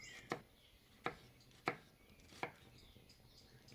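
Knife slicing through an onion on a board for a Spanish tortilla, four crisp evenly spaced chops about every 0.7 seconds, close and clear with quiet gaps between.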